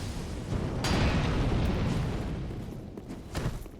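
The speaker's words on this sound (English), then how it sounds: "Stay away and throw your fire orbs." Fiery explosions from thrown fire orbs in Dark Souls 3, a sustained rumbling blast with a second burst near the end, loud and close with no talking.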